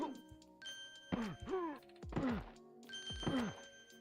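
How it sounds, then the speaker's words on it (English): Birds killed in the Hercules video game give off a repeated sharp, glassy shatter, four bright crashing bursts in quick succession with ringing tones behind them. "every time you kill these birds, they sound like glass breaking, or like pots breaking"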